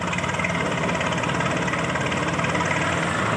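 A Swaraj tractor engine, likely the 744 or 855, idles steadily with a low, loud, continuous rumble and faint knocking vibration, heard alone without talk.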